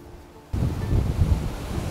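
Loud rushing roar of the lower waterfall on Twenty Mile Creek at Balls Falls, a steady broadband wash of falling water that swells in abruptly and holds, with wind buffeting the microphone.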